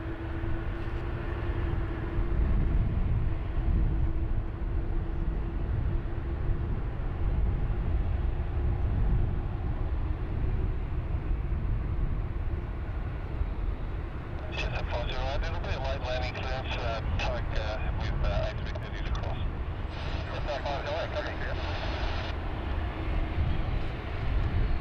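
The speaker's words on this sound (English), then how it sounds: "our Johannesburg flight QF63, formerly operated by 747-400 for many years. But now, in quotation marks, downgraded to a 787" A Qantas Boeing 787-9 on flight QF63 to Johannesburg departs Sydney Airport, a distant low, steady jet rumble that swells and fades across the scene.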